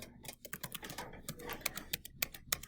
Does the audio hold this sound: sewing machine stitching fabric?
no